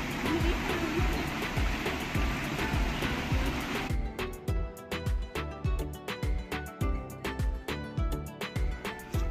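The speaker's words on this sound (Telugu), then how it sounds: "అక్కడ వాటర్ చూడండి, అక్కడ పైనుండి వస్తుంది" Water streams down from above near a Shiva temple at Perantalapalli, a steady rushing splash for about four seconds before sharp rhythmic tapping takes over.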